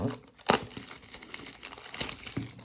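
Plastic packaging crinkles and tears as a new D'CENT hardware wallet is unboxed, close sharp rips and crackles with louder bursts at the start and near the end.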